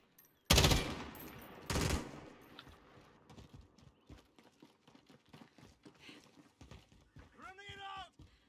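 Sharp gunshots in Call of Duty Warzone, two loud bursts near the start followed by fainter scattered shots and game noise, with players talking over it.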